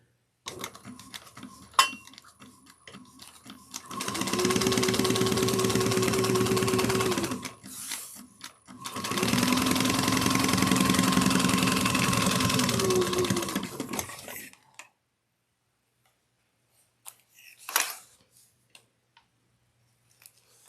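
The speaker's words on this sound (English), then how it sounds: "So we're going to top stitch 1/8 of an inch right here on top of the purple, the lining one." A sewing machine top stitching an eighth of an inch along the purple lining of a bag, running in two long steady bursts with a short pause between, close and alone, then a few faint clicks and handling sounds.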